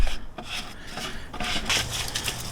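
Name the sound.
unscrewing a salt cell stand of a pool system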